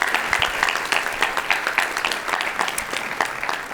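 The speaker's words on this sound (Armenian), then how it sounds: "ծափարենք" Audience applause at an Armenian club-style talk show, a dense steady patter of many hands clapping throughout, fairly loud and close with no voices on top.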